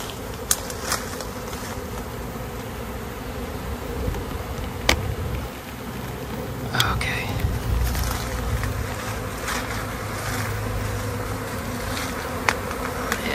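A honeybee swarm swirls off a tree branch, a constant heavy buzzing hum with scattered sharp clicks and light knocks nearby.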